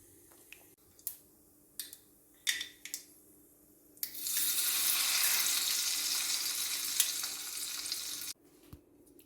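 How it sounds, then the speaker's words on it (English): Mustard seeds splutter in hot oil for a traditional lemon pickle, a few sharp pops and clinks, then a loud steady sizzle lasting several seconds before stopping abruptly. "Once the mustard seeds start spluttering, switch off the stove"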